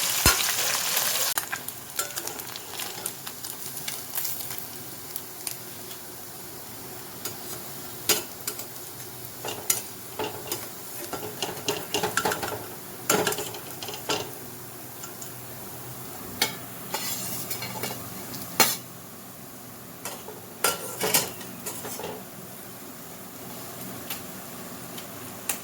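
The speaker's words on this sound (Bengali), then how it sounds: "মাছগুলো আমি সব ভেজে নিলাম" Boroli fish frying in hot oil in a pan, a steady background sizzle broken by frequent sharp clinks and scrapes of a utensil turning the soft fish, with no talking.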